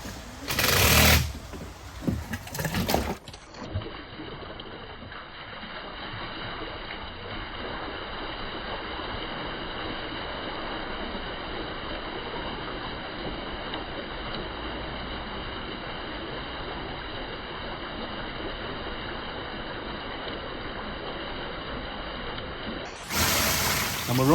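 A pond water pump turned up to 80% runs with a steady, even whirring hum that holds unchanged for about twenty seconds, with brief louder handling noises at the start and end.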